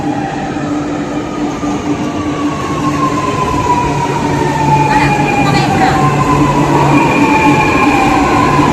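A Chennai metro train runs steadily toward Egmore, giving a loud, continuous rumble with a sustained electric whine that slowly glides in pitch. Faint voices sit beneath the ride.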